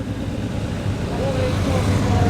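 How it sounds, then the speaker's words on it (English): A classic car passing at an outdoor car show, its engine a low rumble rising slightly as it draws nearer, set against crowd and background noise, with a voice talking over it. "What a great sounding car that is."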